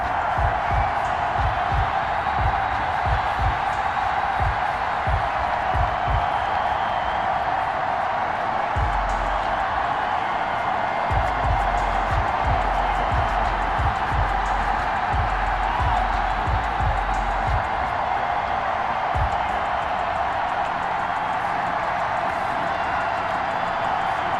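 A sold-out Gillette Stadium crowd roars steadily for the New England Patriots before a game against the Kansas City Chiefs, a dense, sustained wash of cheering with no talk over it.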